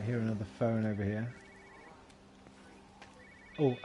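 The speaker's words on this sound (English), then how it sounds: "I hear another phone over here." A telephone rings somewhere in the world of the video game Everybody's Gone to the Rapture, a faint repeating electronic trill heard under a voice that talks at the start and end.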